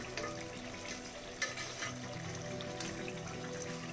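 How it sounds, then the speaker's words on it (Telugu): Rice boiling in a pot for chicken dum biryani, a continuous soft bubbling simmer with a few faint knocks, steady and moderately close, no talking. "చూసారా మీకు ఎలా ఉడుకుతుంది రైస్"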